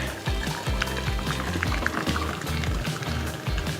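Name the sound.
pouring homemade almond milk into a glass jar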